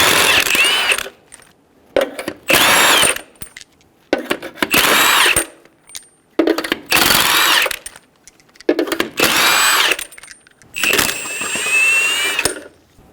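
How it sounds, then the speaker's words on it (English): A power tool with a 21mm socket spins the six front lug nuts off a 2005-2015 Toyota Tacoma, giving loud, close whirring bursts of one to two seconds separated by brief pauses. "Using a 21mm socket, remove the 6 lug nuts."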